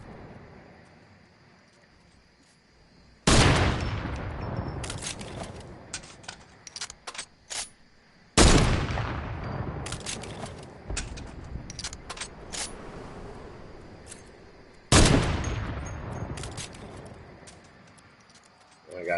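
Shotgun blasts in the video game Victory ring out three times, loud sharp booms spaced several seconds apart with trailing echoes, plus small clicks and taps between them.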